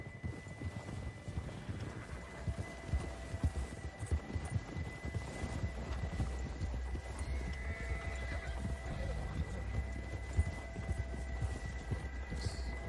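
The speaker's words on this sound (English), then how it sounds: "Olha que cavalo bonito" Horse hooves clip-clop at a steady walking pace in Red Dead Redemption 2, fairly quiet over a low hum, with a faint horse snort and no talk.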